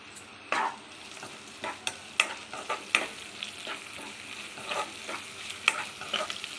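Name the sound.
ginger, garlic and curry leaves frying in a pan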